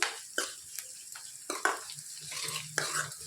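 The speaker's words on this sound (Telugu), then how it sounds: "హాఫ్ టేబుల్ స్పూన్ జీలకర్ర వేసుకోవాలి. బాగా ఫ్రై చేసుకోవాలి." Half a tablespoon of cumin seeds frying in a pan, with a soft crackling sizzle broken by a few distinct spatula scrapes, close and fairly quiet.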